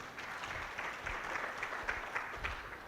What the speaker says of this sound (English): A big clap for them, please.